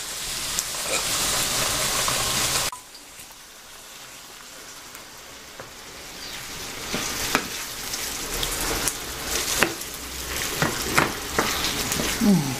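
Tomato pulp and juice with aubergine and capers cooking in a pan over medium heat, a steady close sizzle and frying crackle with scattered pops and stirring scrapes, louder at the start, then continuing more quietly.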